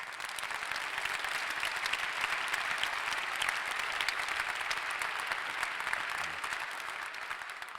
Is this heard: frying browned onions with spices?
no